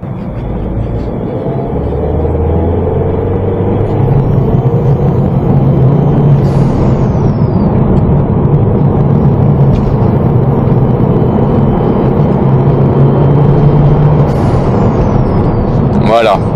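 A Peugeot 308 CC with a 1.6 THP engine and direct air intake accelerates on the road, a steady engine drone climbing through gears with continuous road rumble and a brief whoosh near the end.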